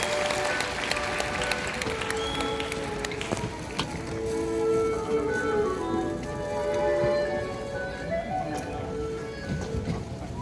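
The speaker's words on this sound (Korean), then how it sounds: "여러분 큰 박수 부탁드립니다." A crowd claps in a dense patter that gradually thins out as a professor is introduced for a lecture at a Korean cultural festival, with a voice speaking faintly over the fading applause.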